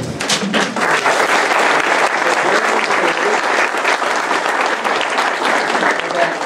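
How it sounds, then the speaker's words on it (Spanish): Loud, dense applause from a seminar audience in Arequipa fills the whole stretch, steady and close, with a few thumps mixed into the clapping. "un aplauso para Alfredo"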